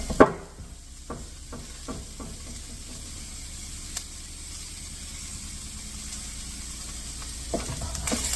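Mushrooms seasoned with salt and pepper sizzle in a pan for beef bourguignon, a low continuous frying hiss with scattered soft clicks of stirring, close and moderately quiet.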